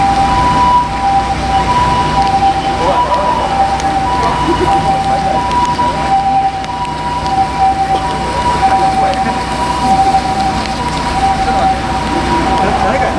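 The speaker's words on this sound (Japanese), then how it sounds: "ちょっと救急車来たから一回止めますね。" An ambulance siren wails on a busy city street outside a supermarket during an outdoor political speech, a steady two-tone tone carried over crowd and traffic noise with a voice talking.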